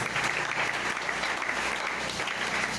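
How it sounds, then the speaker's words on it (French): A church congregation at a thanksgiving service applauds in steady, dense clapping that fills the space, sustained and fairly loud throughout with no voices standing out. "Est-ce qu'on peut acclamer pour la parole?"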